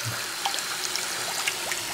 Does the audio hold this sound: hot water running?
yes